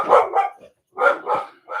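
Dog barking in close, loud bursts of two or three sharp barks with short pauses between them, alone without talk.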